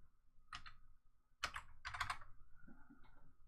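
Several bursts of typing on a computer keyboard, with clusters of clicking keystrokes separated by short pauses, close and fairly quiet.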